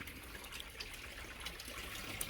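A running hose pipe set in a fish pond trickles water steadily, a soft continuous splashing and gurgle heard up close with no voices.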